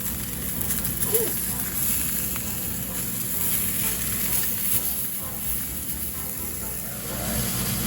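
Currywurst sausages sizzle in a covered pan with a steady, dense hiss and crackle that stays even throughout, close and moderately loud, while a voice talks faintly over it.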